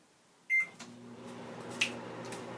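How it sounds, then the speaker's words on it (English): A microwave oven heating raw sugar runs with a steady low hum after a sharp electronic beep near the start, with a brief click partway through. "Microwave my sugar in the raw."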